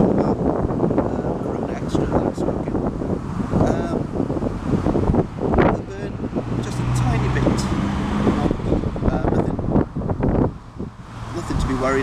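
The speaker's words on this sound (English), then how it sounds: "The wind has picked up, it's getting a tiny bit colder here" Strong outdoor wind buffets and rumbles across the microphone at dusk as the air cools, a continuous low roar with gusts swelling throughout, while a person talks over it.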